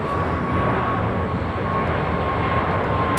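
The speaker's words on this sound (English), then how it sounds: "This takeoff is American Airlines Flight 1990 AO, taking off to Miami, Florida on the A321neo." An American Airlines Airbus A321neo takes off from LAX bound for Miami. A steady, loud engine roar with a broad rumble continues without a break, and a faint tonal whine sits within it.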